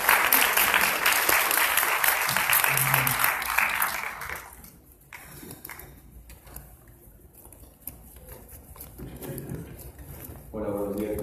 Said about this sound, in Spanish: De nueva cuenta les pido un fuerte aplauso